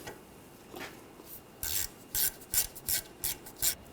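A screw is driven and tightened on a brake hose bracket of a 2013-2019 Ford Escape, giving a series of short, close rasping and clicking bursts in a quick, uneven rhythm.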